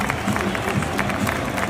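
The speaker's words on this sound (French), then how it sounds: "Public de Rennes qui applaudit du coup" A stadium crowd in Rennes applauds at the end of a match as a player leaves the pitch, a dense, steady wash of clapping and cheering that stops abruptly.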